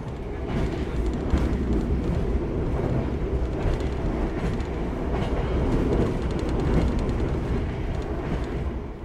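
A long KA Jayakarta premium train with first-generation premium carriages runs at about 117 km per hour, a loud, steady rail roar with rapid wheel clatter heard from on board, unbroken throughout.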